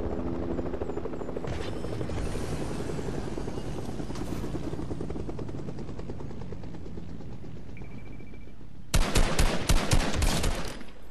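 A helicopter in the Fortnite video game whirs with a steady rotor buzz, then bursts of rapid machine-gun fire break out loudly near the end.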